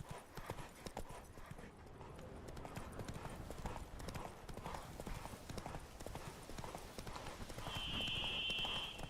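Roach, Geralt's horse in The Witcher 3, trots along with a steady run of hoof clip-clops. A faint ambient game score sits underneath, and a short high tone appears near the end.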